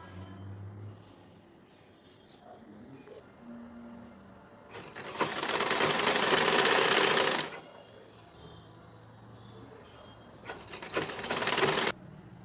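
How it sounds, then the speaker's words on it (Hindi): A sewing machine runs in two bursts as a saree is stitched into an Anarkali gown: a loud rapid whir of about three seconds, a pause with faint handling noise, then a shorter second run. "तो सबसे पहले हम इसको सिल लेते हैं।"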